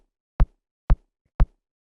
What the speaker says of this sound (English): nice sort of like drum machine style kick.